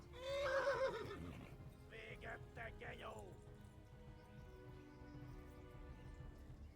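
A horse in the video game Kingdom Come: Deliverance whinnies loudly up close, followed by a few soft hoof clops and snorts fading into a quiet background.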